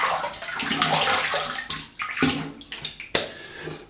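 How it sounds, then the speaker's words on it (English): A razor rinsed under a running tap: a steady, close rush of water with a few sharp knocks and taps against the basin, and no talking. "Right, let's have a quick rinse."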